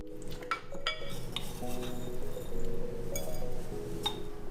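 A soy sauce and sugar mixture for glutinous oil rice is stirred in a bowl, with a steady run of close clinks and scraping of utensil against dish.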